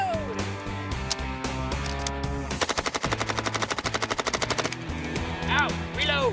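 Guns fire continuously in a test of a Hollywood gunslinger myth: a rapid, evenly spaced string of loud, close shots runs for about two seconds, with scattered shots and other noise around it.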